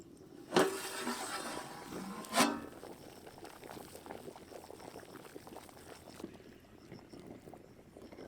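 Eggs boil in water with rock salt and onion peels in a covered pot over a high flame. Two loud bumps come early, then a continuous soft bubbling.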